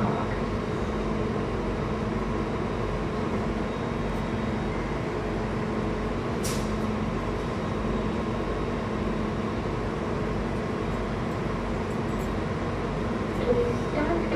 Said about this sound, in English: This is a Bakerloo line train to Queen's Park.